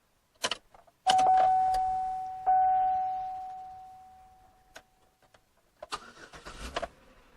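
A 2006 Pontiac Torrent starts up: a steady electronic warning chime rings out, then short bursts of engine cranking follow near the end, close by and with no talk.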